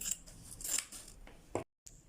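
Scissors snip through paper while a cone-shaped Halloween cap is cut out, several close crisp cuts followed by a brief silence and one last snip.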